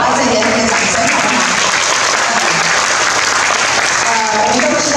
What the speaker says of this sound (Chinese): 来再给他们掌声好